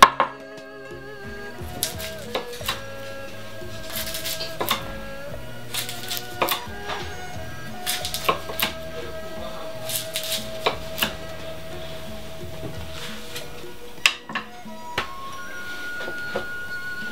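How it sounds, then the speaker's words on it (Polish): A knife cuts a sushi maki roll into six pieces, each slice landing as a distinct tap on a board at a steady, unhurried rhythm, heard alone over soft background music. "Teraz kroimy całość na 6 równych kawałków"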